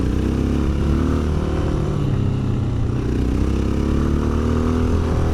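A Honda XR650L single-cylinder motorcycle engine pulls steadily up a hill, a loud continuous thumping drone with a slight rise in pitch, close and constant throughout with wind rush and no talking.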